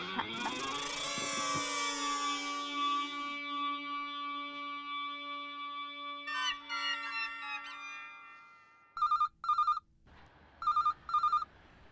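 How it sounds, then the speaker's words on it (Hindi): A telephone rings in sharp electronic bursts, two quick double-rings near the end, after a swell of sweeping, echoing tones. "बाका, सेठ जी का फोन है।"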